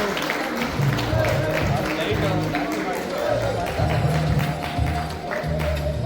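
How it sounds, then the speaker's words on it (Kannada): Audience applause and crowd noise at the launch of a Honda EVICE electric scooter, a steady loud wash of clapping with a voice talking over it throughout. "Put your hands together, everyone."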